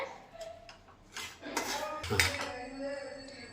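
Onions sautéing in a pan on low flame while cooking rice cutlets, heard as scattered clinks and scrapes of a spoon against the pan over a soft background sizzle, with louder stirring bursts toward the middle.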